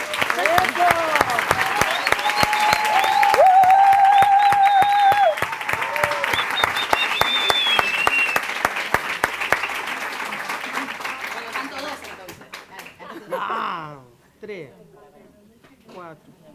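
An audience at a talk on territorial feminisms and popular ecology gives a final round of applause, steady clapping under excited voices and calls that gradually thins out, then fades into a few scattered claps and murmurs.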